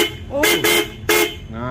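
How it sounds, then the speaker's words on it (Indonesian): A Vespa scooter's horn blares in two loud, close honks with harmonic tone, the second following shortly after the first, while someone speaks briefly over it. "Nah ini suaranya klakson yang dis."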